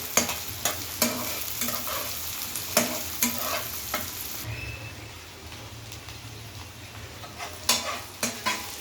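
Chopped tomato is stirred in a hot pan of frying food, with rhythmic scraping strokes of a spatula over a soft, continuous sizzle, close and fairly loud.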